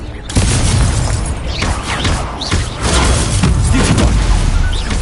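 Confringo spell explosions in Hogwarts Legacy, a continuous loud barrage of booming blasts and crashing impacts with whooshing streaks layered over a heavy low rumble.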